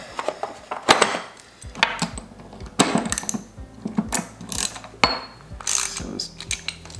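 A ratchet wrench clicks rapidly, tightening a 10 mm bolt on an Explore Scientific Twilight 1 telescope mount: close, loud bursts of ratcheting with metallic clatter between strokes.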